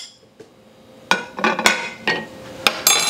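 Metal spoon clanking against a pot while leftover sliced turkey is stirred into gumbo, a series of sharp clinks and scrapes coming in irregular bursts, close and fairly loud.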